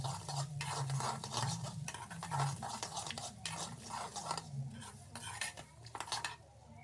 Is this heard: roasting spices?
yes